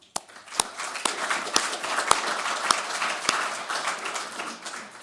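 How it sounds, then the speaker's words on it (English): Conference audience applause at a tax panel event: a sparse scatter of sharp, distinct hand claps at moderate volume over a soft room wash, with no talking. "I think we should all applaud her for that."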